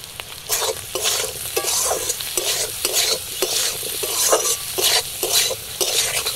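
Potatoes with turmeric and salt frying in a pan, stirred briskly so a spatula scrapes and clatters in repeated bursts over a constant close sizzle.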